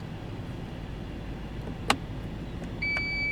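In a 2017/2018 Lexus LX570, a single click of the memory set button is followed by a clear, steady electronic beep confirming the seat memory, heard close over quiet cabin background with no talking.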